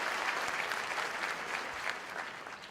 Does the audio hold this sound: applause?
yes